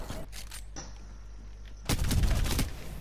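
Charge rifle fire in a first-person shooter game: a sustained high whine builds for about a second, then bursts into a loud, broadband crackling blast over a steady low hum of game background noise.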